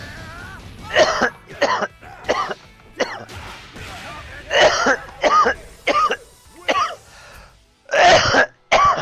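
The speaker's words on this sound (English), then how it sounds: "And I'm coughing like a sick man" A man coughs hard and repeatedly, in roughly ten harsh bursts with short gaps between them, close to the microphone, over faint game sounds.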